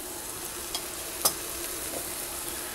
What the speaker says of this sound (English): You can hear them starting to sizzle.